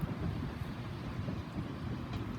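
A grimy Class 377 electric multiple unit pulls into Eastbourne station, likely terminating from London Victoria, giving a steady low rumble of wheels and traction with some wind noise, fairly loud and continuous throughout.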